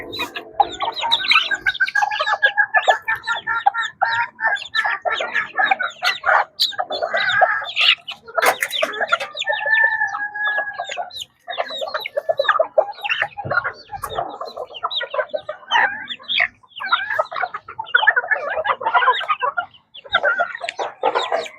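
Hens with a cold cluck and squawk loudly and almost without pause at close range, with overlapping calls from several birds.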